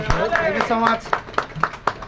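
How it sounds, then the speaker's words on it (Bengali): People clap at a charity event for flood victims, a quick run of sharp, evenly spaced claps that follows a voice speaking close by. "হাততালি দিয়ে"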